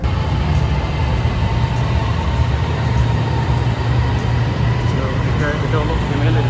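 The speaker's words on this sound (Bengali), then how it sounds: "আমার ট্রেন 1 মিনিট আছে, আর চলে আসছে" A train arriving at a station, a loud steady low rumble and roar of the rolling train with a continuous mechanical hum, heard up close and unbroken throughout.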